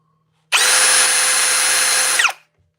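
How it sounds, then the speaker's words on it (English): A new Ryobi hammer drill runs in a single steady burst of about two seconds, a loud close high-pitched motor whine that starts sharply, holds level, then winds down as the trigger is released. "we went on and got the new Ryobi, however you say it, hammer drill. Just listen."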